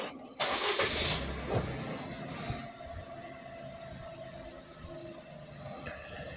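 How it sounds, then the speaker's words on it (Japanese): A Nissan Moco MG33S kei car, at 119,734 km during an oil change, cranks with a brief starter whir and then settles into a steady, close idle that carries on alone. "エンジンかけます。"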